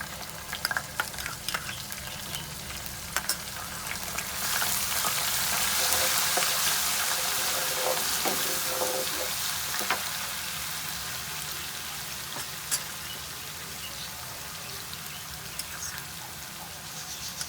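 Garlic and ginger frying in hot oil with cumin seeds, a steady crackling sizzle that swells louder as the ingredients hit the pan, then settles into an even, close hiss with scattered pops.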